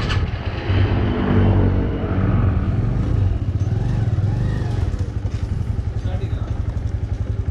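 Yamaha RX100 motorcycle that fails to start, heard as rough clattering engine bursts and cranking close by, mixed with people talking over it.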